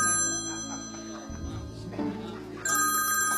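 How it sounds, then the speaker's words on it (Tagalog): A mobile phone ringtone chimes in a repeating melodic pattern at moderate volume indoors, cutting out briefly and resuming, with faint background noise. "Telepono ko po yun."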